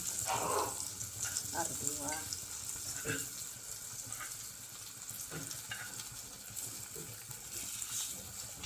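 Fish shallow-frying in a pan over a low gas flame gives a steady, soft sizzle throughout, with a few scraping touches and faint clinks, close by and moderately quiet.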